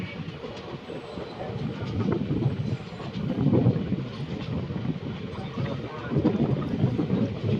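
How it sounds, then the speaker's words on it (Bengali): Onboard a train hauled by an old WDG4G diesel locomotive on the Katihar–Siliguri Intercity Express: a steady rumble with rail clatter and clickety-clack, plus wind buffeting on the microphone. "আজ অনেকদিন পর ডিজেল লোকোমোটিভের সাথে যাত্রা করছি"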